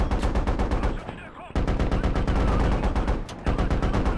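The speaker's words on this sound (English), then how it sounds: "Both heavy machine guns opening up on the Logi" Heavy machine gun fire in the military shooter game Squad, two guns hammering out dense rapid bursts at close range, with a brief pause in the middle before the loud continuous firing resumes.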